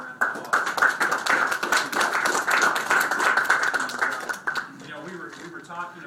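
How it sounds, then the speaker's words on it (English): Audience applause at a county town hall meeting in Washington County, Oklahoma: dense, steady clapping from a room of people for about four and a half seconds, then fading out as a voice begins speaking. "And let's give her a great big round of applause."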